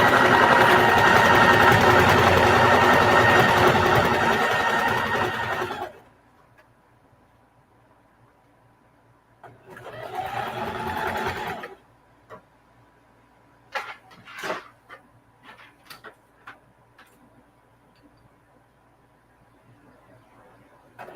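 A sewing machine stitching a patchwork duffle bag runs steadily and loudly for about six seconds, then a shorter burst of stitching, followed by scattered handling clicks and fabric rustles.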